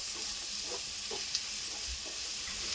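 Ginger paste fries in a pan for a Telugu boti curry, giving a steady, close sizzle with faint stirring scrapes now and then.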